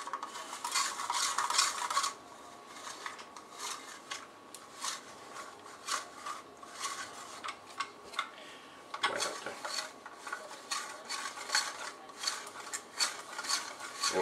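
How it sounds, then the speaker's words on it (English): Cheese grated on a hand grater while making bacon-wrapped stuffed jalapenos, a dry rasping scrape in uneven bursts of strokes, close and fairly quiet, with no talking. "we're going to grate our cheese"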